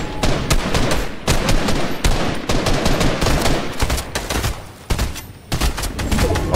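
Rapid bursts of gunfire from a Fortnite match crack loudly in quick succession, sharp repeated shots with brief pauses between volleys and no talking.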